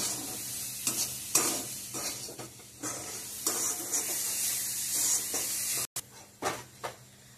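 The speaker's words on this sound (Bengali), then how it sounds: "ভালো করে এটা নাড়িয়ে নেব।" Masala sizzles steadily in a hot pan while being stirred, with repeated scraping strokes through the frying, a brief break near the end, and no voices.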